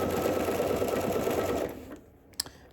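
Sewing machine basting a garment's bottom edge with a long 3.5 stitch length, a close, steady whirring run that stops abruptly, followed by a faint click.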